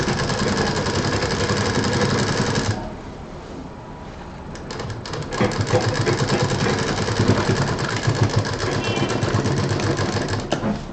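A sewing machine stitches the border of a large fabric bag, running in a steady mechanical whir, pausing briefly after a few seconds and then resuming for the rest of the stretch, close and fairly loud.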